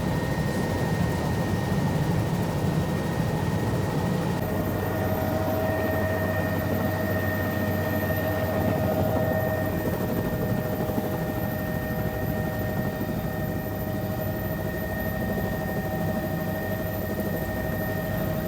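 A helicopter flying over crop fields gives a steady, loud rotor and engine drone with a constant whine that holds unbroken throughout, with no talking.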